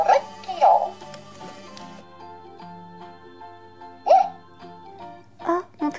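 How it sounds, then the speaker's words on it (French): Repeated short hiccup-like squeaks from a Hatchimals toy, three or four separate bursts over a steady electronic hum, fairly close and clear. "tu as le hoquet"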